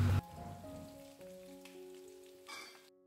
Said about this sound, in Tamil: மீடியம் ஃப்ளேமில் வச்சே நம்ம சிக்கனை ஃப்ரை பண்ணணும்